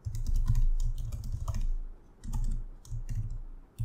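Typing on a computer keyboard while writing React code, rapid clusters of key clicks broken by brief pauses, close and clear with no talking.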